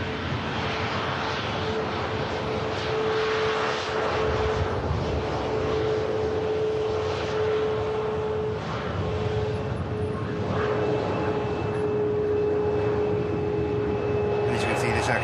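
A Ryanair Boeing 737 Max 8200 bound for Lanzarote rumbles steadily while taxiing at Manchester Airport, a continuous loud engine drone with a whine, recorded fairly close, with a voice talking over it.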